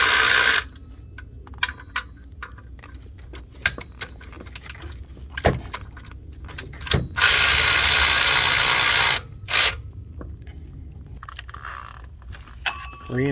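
A hand ratchet clicks rapidly in bursts while loosening the serpentine belt tensioner on a Ford F150 4.6L 3V, with long steady stretches of ratcheting broken by short pauses, knocks and light metallic clinks from the engine bay.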